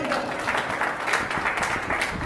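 An audience applauds at a stage event as a performer is introduced, a steady dense wash of clapping that lasts the whole short stretch without pause.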